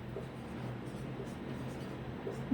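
Pen or pencil writing by hand during a Hindi-language maths lesson on direct proportion, a faint, steady scratching over quiet room noise with no talk.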